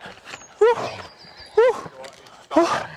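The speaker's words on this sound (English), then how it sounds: "there's a dog." A dog barks three times at about one-second intervals out in the woods, each bark sharp and fairly close, while a person talks over them.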